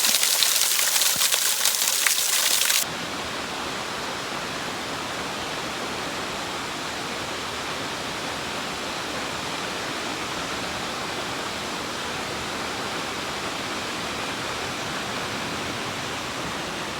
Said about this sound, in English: I think this is the last waterfall that I'm going to be at. I'm at the upper North Falls.